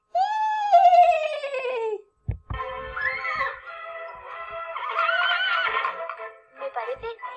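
A person imitates a horse's neigh with a loud, falling whinny-like voice, then after a short gap carries on with more vocal whinnying and speech-like sounds, all close and clear.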